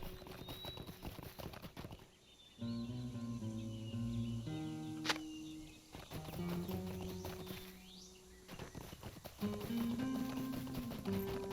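Horse hooves clip-clop in the Lord of the Rings Online video game beside a wagon in a wooded area, a steady clopping rhythm with game music tones underneath.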